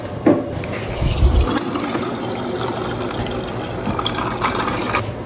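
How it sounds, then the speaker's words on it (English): Cold water pours into a container in a home kitchen where Kenyan food is being cooked, a steady close filling splash with a heavier gush near the start and no talking. "I'm gonna go ahead and give myself some cold water"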